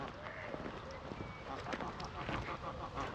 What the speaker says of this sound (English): We'll try and get past this goose.